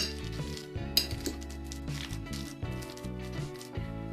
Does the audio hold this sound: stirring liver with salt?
yes